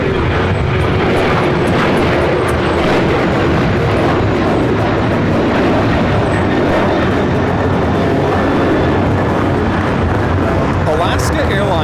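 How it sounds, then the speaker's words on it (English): An Alaska Airlines Boeing 737-800 on its takeoff roll at LAX, a loud, steady broadband jet roar that holds for the full length with little change, close by and alone without talk. "Alaska Airlines Flight 6 taking off to Washington Reagan National on the 737-800"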